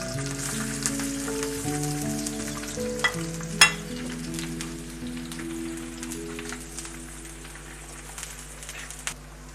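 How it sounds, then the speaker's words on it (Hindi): Chopped onions frying in cooking oil in a karahi give a steady, close sizzle with occasional sharp pops and light stirring, while a low tonal hum runs underneath. "जब ये प्याज मैंने इसमें डाल कर मैं फ्राई कर रहा हूँ कढ़ाई में"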